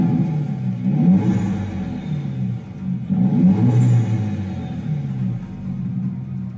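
Tuned 2011 Peugeot 207 GTI with hybrid turbo, intercooler and partial exhaust, revving in two loud surges that rise and fall, with a rumbling engine note and turbo whir, no talk.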